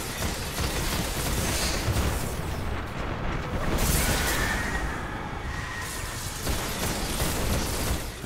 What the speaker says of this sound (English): Just toss my grenade up there.